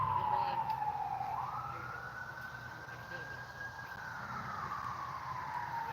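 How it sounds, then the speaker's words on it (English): A distant emergency siren wails, its pitch slowly sliding up and holding before falling again, over low outdoor background noise. "Yeah, the sirens start going."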